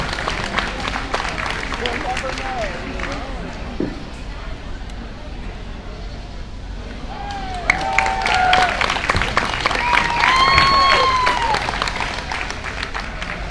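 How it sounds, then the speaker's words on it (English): Audience applause for young market lamb show exhibitors at a livestock show arena, steady dense clapping across the hall, swelling louder toward the end with scattered voices and crowd noise mixed in. "give these young people a nice round of applause"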